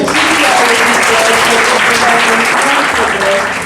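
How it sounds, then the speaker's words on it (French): A class claps together after a student presentation, loud continuous applause close by, with some voices calling out and murmuring over the clapping. "merci tout le monde, applaudissez"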